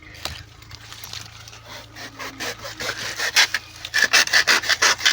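A bunch of homegrown bananas is cut, with repeated rough rasping, sawing strokes close by that grow louder and faster toward the end, no talking.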